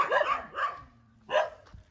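Dogs bark three times at close range, two quick barks followed by a pause and a third, with no one speaking.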